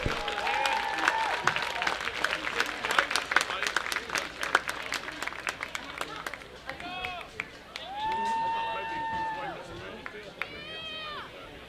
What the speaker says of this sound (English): Let's give these state champions another well-deserved round of applause.